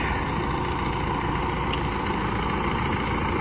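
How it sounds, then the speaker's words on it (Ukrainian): A Massey Ferguson 5711 tractor runs steadily while pulling a Bednar Row-Master 6400 row-crop cultivator in a field, a loud continuous engine drone with a dense low rumble and no talk. "Працює, як ви бачили, із трактором 5711 масей."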